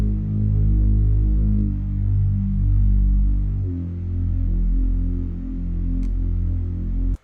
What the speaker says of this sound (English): So we came up with this cool synth bass part.